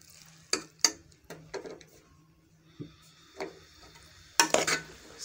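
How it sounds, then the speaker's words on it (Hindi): Hakka chicken noodles being stirred in a pan with tikka masala and salt: irregular scraping clinks and taps over a steady low sizzle, close and moderately loud. "अब इसको मिक्स कर रहे हैं"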